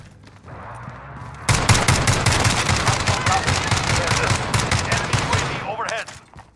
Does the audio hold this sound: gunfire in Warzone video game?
yes